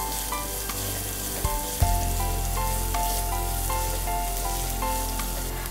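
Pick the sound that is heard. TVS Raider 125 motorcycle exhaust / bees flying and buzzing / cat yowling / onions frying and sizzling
onions frying and sizzling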